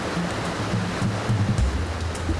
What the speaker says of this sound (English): The Rheinfall, the largest waterfall in Europe.